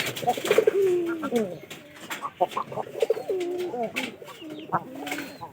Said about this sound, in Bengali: এই যে 3 নম্বর খড়ের পায়রাটা, ওরাও কিন্তু ভালো ডাক পারে।